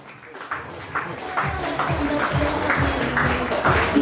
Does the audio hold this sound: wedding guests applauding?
yes